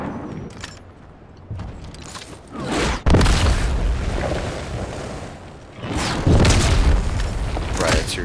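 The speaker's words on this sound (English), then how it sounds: "I'm being shot at" Incoming fire in a Fortnite match with railguns in play: heavy booming blasts and bursts roll in waves, loud and close, with a voice speaking briefly amid the noise.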